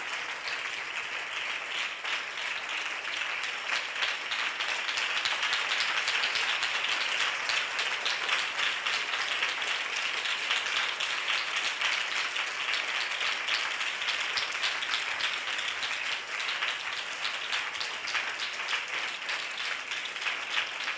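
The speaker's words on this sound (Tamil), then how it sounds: "இதுக்கெல்லாம் நீங்கள் கை தட்டணும்." An audience bursts into steady applause at a Tamil religious talk, dense clapping from many hands that holds evenly for the whole stretch with no voice over it.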